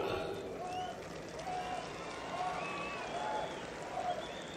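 An audience at a political speech about the upper-caste reservation bill applauds, a faint, distant wash of clapping from a crowd that rises and falls over several seconds.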